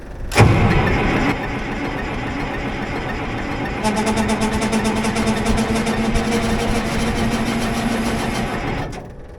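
Small aircraft engine on a private runway coughs to life with a sharp start, then holds a steady close propeller drone with rapid rhythmic pulsing before it cuts off near the end.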